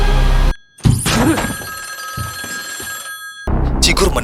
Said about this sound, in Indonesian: telepon berbunyi